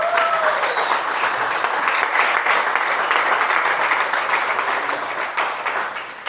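A Sunday church congregation in Mula gives a loud, sustained round of applause, dense clapping that holds steady for several seconds with a brief voice at the start.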